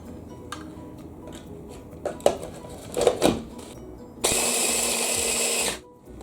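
A kitchen food processor whirs steadily for about a second and a half, chopping cooked bacon into coarse crumbs after a few short clatters and knocks, close and fairly loud.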